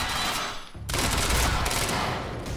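Turret gunfire in the video game Quantum Break: dense, continuous automatic fire, briefly dropping away before resuming in a loud sustained burst.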